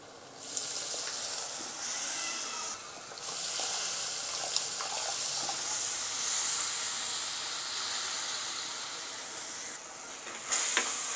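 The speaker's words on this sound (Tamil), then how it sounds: "அந்த புளி தண்ணியை ஊற்றிக்கலாம்." Tamarind water pours steadily into a hot pan for a sardine curry, with a continuous watery hiss and sizzle that runs throughout, briefly louder near the end.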